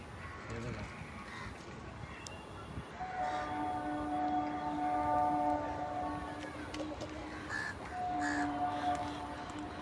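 Crows caw repeatedly at a distance over a low continuous rumble, with a few sustained tonal notes in the background, on a boat near the Titwala Ganpati temple.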